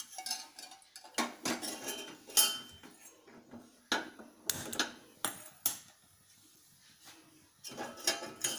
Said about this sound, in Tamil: நீங்கள் ஸ்டவ்வில் வச்சு காய்ச்சும்போது இப்படி கைவிடாமல் கிளறிட்டே இருக்கணும்